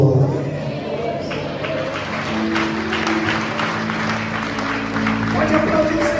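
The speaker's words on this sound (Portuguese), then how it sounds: "Pode aplaudir o Senhor, muito mais do que vencedores." A church congregation claps steadily through a worship service, the applause close and sustained alongside a low organ or keyboard tone, with some voices mixed in.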